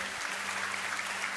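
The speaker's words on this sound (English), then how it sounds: "Let's give God a hand clap of praise in his house if you would." Church congregation applauding together in a sustained burst of hand clapping, steady and dense throughout, with no voices standing out.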